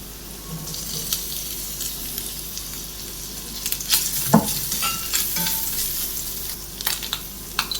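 Chicken goes into a pan of carrots already sautéing, and a soft continuous sizzle runs under scattered stirring scrapes and clinks, with louder knocks around the middle and no talking.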